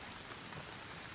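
Steady, dense rain falls on a surface as a constant hiss with faint patter throughout the short stretch, with no voices.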